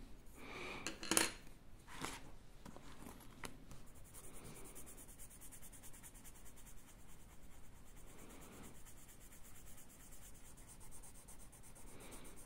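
A pen colours in a bullet journal page, giving a steady close scratching and rubbing on paper. A few stronger scrapes come near the start, then a continuous soft scribble follows.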